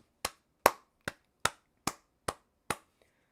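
Seven sharp hand claps in a steady, even rhythm, crisp and close, with brief silence between each and no voices.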